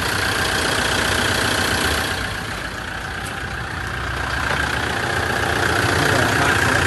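A 2005 Kia Bongo3 1.4-ton wing-body truck engine idles with a steady, loud mechanical rumble and clatter that dips slightly midway before settling back, with no talking.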